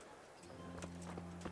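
Horse hooves in Kingdom Come: Deliverance, a quick run of close clip-clop steps, fairly quiet, with a steady low tone beneath.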